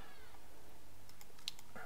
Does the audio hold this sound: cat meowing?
yes